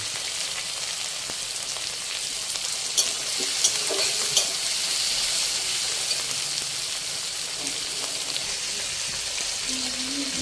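Shrimp fry in a hot pan with salt for a Bengali ol data prawn dish, giving a steady close sizzle with occasional stirring taps and soft crackles, no talking.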